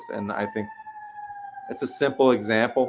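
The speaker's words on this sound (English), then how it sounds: "Sorry about the siren in the background." An emergency vehicle siren holds a steady wail in the background for about a second, between stretches of close conversational speech that carries on over it.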